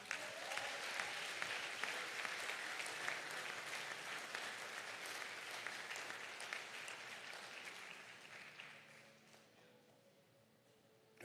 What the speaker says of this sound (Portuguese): Se você crê, aplaude ao Senhor.